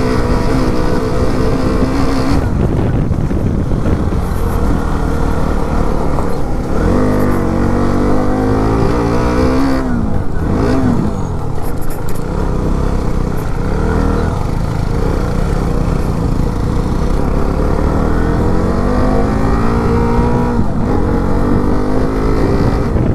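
A motorcycle riding along a mountain road near the hill station of Khirsu in Uttarakhand, its engine droning loudly and continuously, rising and falling with throttle, with wind noise throughout and no talk.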